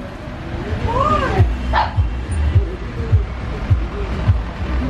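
Dogs playing, including a big dog, make a string of short yelps and growly vocal bursts in a noisy outdoor setting, with people talking faintly in the background.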